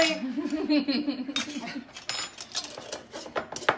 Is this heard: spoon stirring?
yes